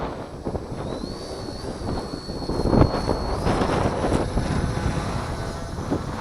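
A radio-controlled scale Cessna 310 model airplane takes off outdoors, its engine a steady, fairly loud drone mixed with heavy wind rumble across the microphone.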